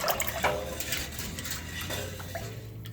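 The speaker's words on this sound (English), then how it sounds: "I'm going to give this a little bit of a stir to help dissolve the sugar and the water." Pickle brine of water, sugar and salt is stirred in a pot, giving light clinks of utensil on metal and soft swishing liquid, close and moderately quiet, with no voices.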